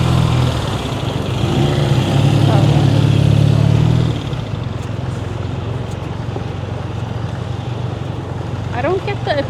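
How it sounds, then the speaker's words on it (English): A loud motorcycle engine rumbles nearby for about four seconds, then drops away into a steady, lower roar of traffic or engine noise. "I don't get the appeal of motorcycle noise."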